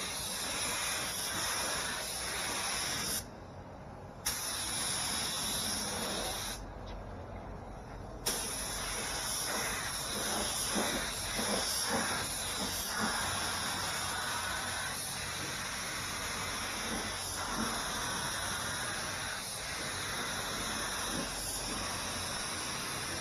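A paint spray gun hisses steadily as it sprays a car in a home garage, with two short pauses where the trigger is released before the spraying resumes.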